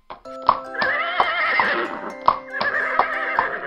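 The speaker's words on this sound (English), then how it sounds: "Are those horses I hear outside?" Horses whinny loudly outside, long shrill neighs with a second one following, while hooves clip-clop sharply in a steady rhythm nearby.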